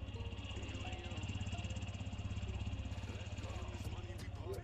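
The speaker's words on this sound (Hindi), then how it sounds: "इंजन साउंड है, इंजन में कोई भी बदलाव नहीं किया गया है।" Close to the engine of a stock 2022 TVS Radeon motorcycle, a steady idle chugs in an even, rapid low-pitched beat with faint mechanical ticking, while someone talks over it.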